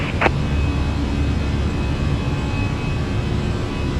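A319-100 twin jet engines at takeoff thrust on runway 31 right at Marseille Provence Airport in Microsoft Flight Simulator, a steady, loud, broadband roar that holds constant throughout without any voices.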